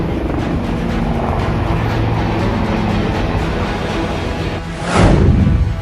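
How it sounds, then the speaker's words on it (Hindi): Steady loud engine and rotor drone of an Indian Light Combat Helicopter, building as the aircraft passes close by near the end. "लाइट कॉम्बैट हेलीकॉप्टर की गूंज से कांपा चीन।"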